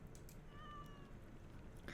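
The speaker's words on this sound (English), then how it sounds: "Mr. Iridescence's cat was meowing excitedly at his side." A cat in the Identity V video game gives a single soft meow, faint under a steady bed of background noise.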